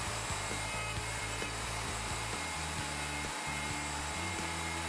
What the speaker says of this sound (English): Plunge the router and route the first tenon.